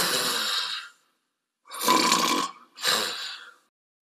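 A person imitates snoring with their throat, producing three rough, raspy bursts separated by short silences, loud and close.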